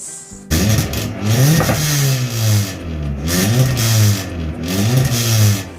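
A car fitted with an aftermarket exhaust revs up hard several times in a row, each loud rising rev falling back between pulls, heard close and alone.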